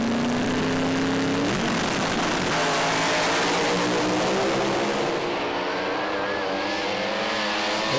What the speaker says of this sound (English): Then we have a drag race.